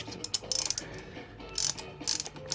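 A wrench turns a spark plug snug in the 2.0L GDI engine of a 2016 Kia Forte 5, giving several short, irregular metallic ratcheting clicks close by with quiet moments in between.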